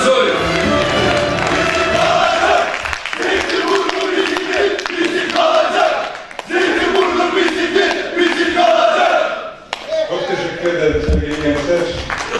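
A crowd at a mayoral candidate's introduction night cheers and applauds in loud, sustained waves with shouting mixed in, briefly dipping twice before swelling again.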